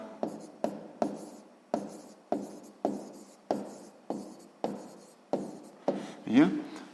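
Pen or chalk writing down a sixth-grade math solution: a regular series of short scratchy strokes, about a dozen, close and crisp, ending in a longer squeaky scribble.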